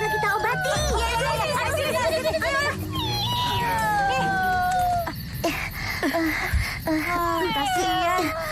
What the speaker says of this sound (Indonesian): Kucing ini harus segera kita obati.